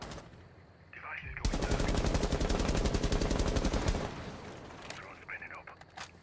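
Sustained automatic gunfire erupts in a tactical video game match, a dense rapid burst lasting a few seconds and then cutting off, with quieter game sounds and players' voices around it.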